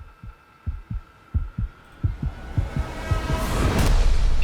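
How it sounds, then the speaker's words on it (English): The stock cooler fan on a Pentium III computer whirs noisily, with a steady whine and a broad rushing noise that swells louder toward the end, preceded by a series of soft, low rhythmic thumps. "It's very noisy. I don't like that stock Pentium 3 cooler."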